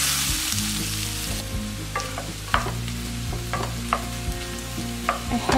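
Eggplant frying in butter in a pan over medium heat gives a steady, close sizzle with a bright hiss, while several sharp clinks and scrapes of stirring cut through at irregular intervals.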